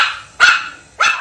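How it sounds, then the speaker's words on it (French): A dog barks twice at close range, two sharp loud yaps about half a second apart with a brief pause between, aimed at a woman nearby. "tu arrêtes de m'aboyer dessus toi"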